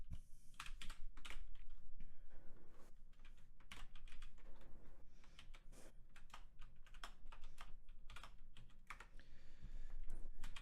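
Code being typed on a computer keyboard while writing JavaScript, heard as steady, close, rapid key clicks in irregular bursts across the whole stretch, with no talking.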